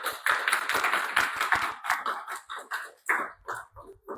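A church congregation at a Spanish-language worship service claps in a loose, fairly quick rhythm, with distinct individual hand claps close by and moderately loud, with no talking.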